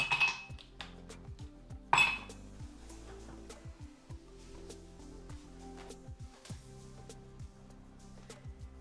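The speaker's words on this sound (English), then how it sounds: "I'm going to fill my glass with ice." Ice cubes clink and tumble into a cocktail glass in a quick flurry, followed by scattered lighter clinks as they settle, fairly close and clear.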